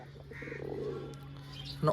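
Madrasa pigeons of fancy breeds such as kaldana and lekdar call and flutter in a bird shop, their calls mixed with other birds under someone talking nearby.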